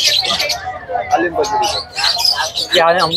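Budgerigars chirp and chatter rapidly and close by at a Sunday market in Hyderabad, a busy flurry of high twittering calls with faint human voices in the background.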